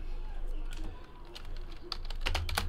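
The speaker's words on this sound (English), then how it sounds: "Stuck with me watching me type in names." Typing names on a computer keyboard during a live sports card break, with scattered key clicks that speed into a brisker burst near the end over a low steady hum.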